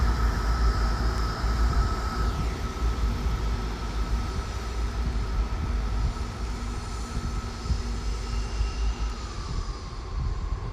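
A Class 159 diesel train at Exeter Central rumbles and hums steadily, with a sustained engine drone and a tone that drops partway through, heard from the platform at moderate distance.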